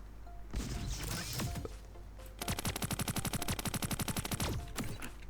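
Rapid gunfire in the Roblox game Anime Raid: a few scattered shots, then a long fast burst of evenly spaced automatic fire, loud and close over a steady game background hum.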